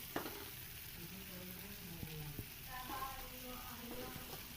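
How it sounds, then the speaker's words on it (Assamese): Grated coconut and sugar fry and dry out in a pan for Assamese Bihu pitha, giving a soft, steady sizzle with occasional scraping stirs, faint and close, under brief quiet speech. "এই নাৰিকল আৰু চেনিখিনি একদম পূৰা খৰখৰীয়া হোৱালৈকে, মানে পূৰা শুকাই যোৱালৈকে ভাজিম ভালদৰে।"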